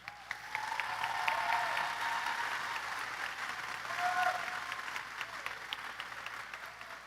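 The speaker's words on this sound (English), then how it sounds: "Let's give them another round of applause." A large commencement crowd applauds the Mona Shores class of 2026, sustained clapping across a big space that swells midway and then thins out.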